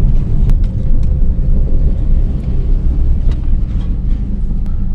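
A Subaru with a CVT drives along, giving a steady, close, low engine and road rumble with no talk over it.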